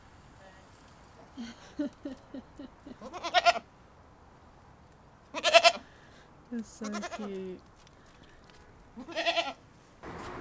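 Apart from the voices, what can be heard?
goats bleating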